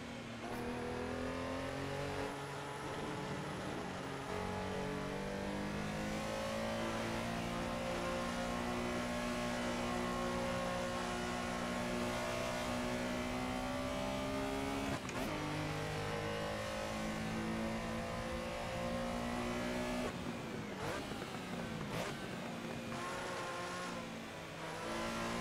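A Porsche Carrera RSR 3.0 in the Assetto Corsa racing sim at Barcelona, its engine holding a steady high-revving drone that climbs and drops through gear changes, loud and continuous with no talk.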